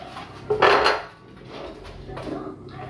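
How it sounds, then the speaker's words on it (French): A small baking sheet is shifted across a kitchen counter, giving one clattering metallic scrape and clunk, close and moderately loud, followed by quieter handling noises. "Je vais juste décaler la petite plaque."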